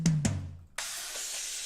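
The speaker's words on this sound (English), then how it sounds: "So say you've got empty power drums, the free drum VST." Sampled hits from a free drum VST plugin kit: two quick low drum thumps followed by a bright, hissing crash that sustains and washes out, dry and close with no other sound.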